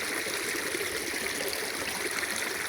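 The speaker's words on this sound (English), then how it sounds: "you just listening to the water" Steady stream water trickling and gurgling over rocks on a nature walk, a continuous close rushing wash with no voices.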